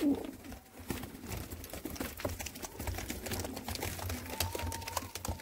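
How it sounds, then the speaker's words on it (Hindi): Pigeons of a Jammu seller's flock, white Sialkoti and other breeds, coo in low repeated murmurs, with scattered clicks and rustling around them in a busy loft. "सभी के सभी कबूतर भाई सेल में है"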